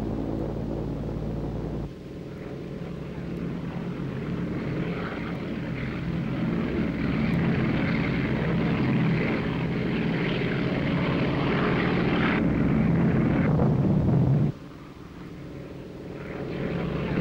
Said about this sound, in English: Quickly, one behind the other, the planes now land